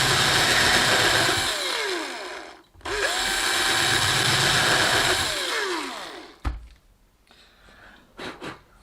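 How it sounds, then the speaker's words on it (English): A loud power drill whines in two long bursts with a brief pause between, pitch sliding as it bites into a Telecaster guitar build, then short clicks and handling noises. "Sorry about that drill, pretty loud."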